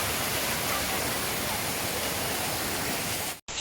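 A waterfall near Genting and Ulu Yam in Malaysia roars as a dense, unbroken rush of falling water, close and steady, cutting off abruptly at the end.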